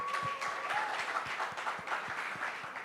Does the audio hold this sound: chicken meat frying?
no